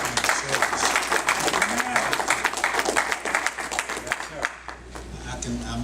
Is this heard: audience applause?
yes